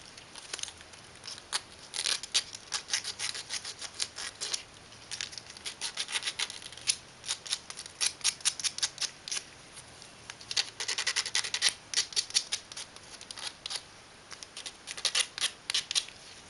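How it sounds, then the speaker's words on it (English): Steady scratchy sanding of the tabs off a plastic tortoise shell piece, close up, in quick rasping strokes that come in uneven bursts with short pauses, no voices. "Now find the shell piece with the neck hole and sand off any tabs."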